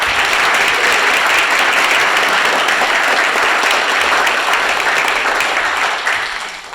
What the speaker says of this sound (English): a round of applause for Emay Morath